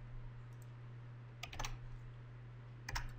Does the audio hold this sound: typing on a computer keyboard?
yes